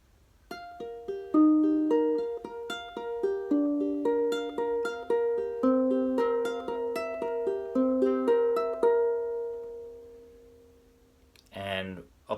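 A repeating chord sequence is picked and strummed close up, layered notes ringing in a steady flowing pattern for about nine seconds before fading, followed by a brief voice.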